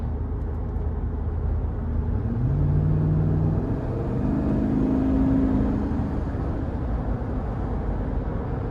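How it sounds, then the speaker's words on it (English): A 2009 GMC Yukon Denali with the 6.2 V8 drives along with a steady, deep engine rumble and road noise, and the engine note rises in pitch a couple of times as it pulls. "you had that aggressive sound in these Denalis particularly"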